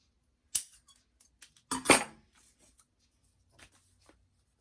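Scissors trimming fabric for a Molly bag, with a few sharp close snips and a brief burst of cutting, separated by quiet pauses.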